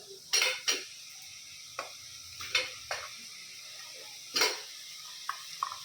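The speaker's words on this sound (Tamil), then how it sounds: "இப்போது வெங்காயமும் தக்காளியும் லைட்டாக வதங்கிடுச்சு. நம்மளோட மட்டன் காலை போட்டுக்கலாங்க." Mutton trotters dropped into a pan of lightly sautéed onions and tomatoes: a quiet kitchen with several sharp metallic clanks and scrapes of a spoon against the pan, irregular and close, with faint sizzling between.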